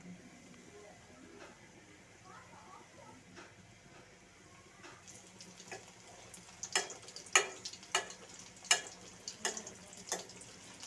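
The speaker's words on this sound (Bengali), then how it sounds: "তেলগুলোকে গরম করে একটা একটা করে চিকেন দিয়ে দিব।" Chicken fingers are laid one at a time into hot oil, starting as a faint background sizzle and then turning into a series of sharp, close pops and spatters in the second half.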